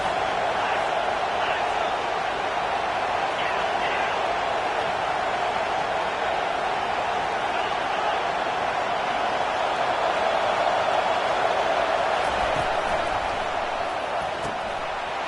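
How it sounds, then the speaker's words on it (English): A stadium crowd in a college football video game roars as a broad, steady wash of noise that holds level throughout, with commentary talking over it. "Listen to the crowd energy here in the early going."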